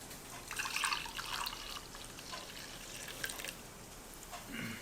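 Coffee poured into a San Francisco mug at home makes a soft, steady trickle with a few drips, quiet and close with no talking.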